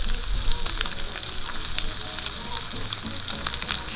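A steak fries in a hot pan, crackling and sizzling steadily with bright spitting fat and small pops, close and continuous with no voices.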